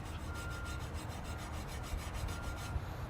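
Steel wool scrubbing chrome in quick back-and-forth strokes, a soft, close, rhythmic rasping repeated many times, quiet and alone.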